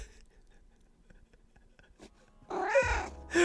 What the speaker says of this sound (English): Oh yes, they're actually using cat sounds.